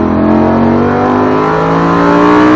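A Lamborghini on a racetrack accelerates hard, and its loud, close engine note climbs steadily in pitch throughout, with no gear change and no voices.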